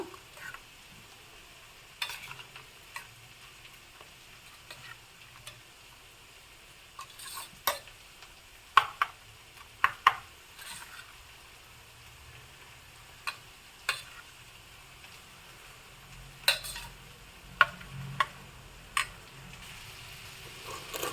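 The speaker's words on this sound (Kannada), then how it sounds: "ಚೆನ್ನಾಗಿ ಮಿಕ್ಸ್ ಮಾಡ್ಕೋಬೇಕು" Cucumber being mixed with ground coconut masala in a pan for a Havyaka dish, quiet background hiss broken by scattered sharp spoon clinks and scrapes against the pot.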